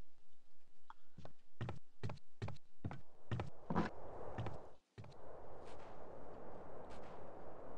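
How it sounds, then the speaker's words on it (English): Gunfire rings out around a neighborhood in GTA San Andreas on mobile, a string of about ten loud, sharp shots spaced unevenly over several seconds, followed by a steady rumbling game ambience. "Usual gunshots of the neighborhood"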